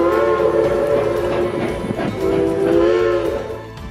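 A Georgetown Loop 3-foot narrow-gauge railroad train in Colorado's Clear Creek area, its whistle sounding in sustained tones over steady rumbling, loud and close, with no talk.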